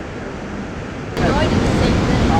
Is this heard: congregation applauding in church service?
no